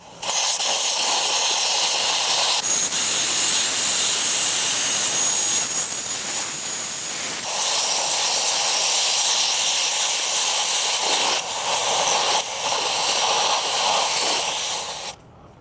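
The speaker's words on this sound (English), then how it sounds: "I'm gonna air it down to 15, which is pretty good trail pressure for these wheel and tires." Air hisses loudly and continuously out of a 37x12.50 17-inch off-road tire through a Monster Valve Tap2 deflator, a close, steady rushing roar that briefly shifts in tone as the tire is let down to trail pressure.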